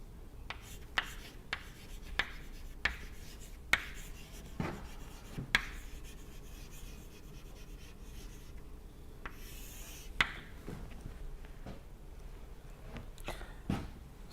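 Chalk strokes scratch and tap across a board in a lecture hall, a faint string of short, irregular scrapes and clicks spread through the quiet.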